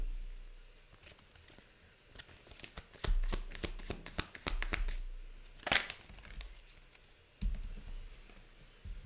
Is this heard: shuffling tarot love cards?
yes